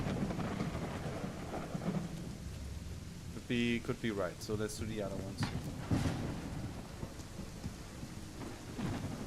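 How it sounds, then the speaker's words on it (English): Steady rain with rolling thunder in the Lovecraftian game Call of the Elder Gods, a dense wash of rainfall throughout while someone talks briefly over it in the middle. "I love rain in video games."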